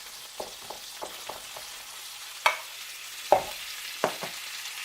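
Onions sauté in butter in a cast iron pan: a quiet steady sizzle punctuated by several crisp spatula scrapes and clacks against the iron, close and fairly soft, with no voices.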